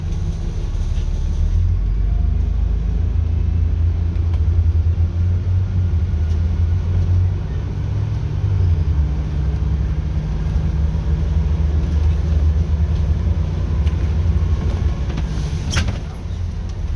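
A Dennis Trident Euro 2 double-decker bus, formerly run by Stagecoach, with a steady loud low engine rumble that continues throughout with little change and no speech.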